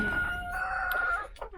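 Chickens call nearby in a coop during a severe molt, one sustained crowing-like note followed by a few short clucks, with no talking.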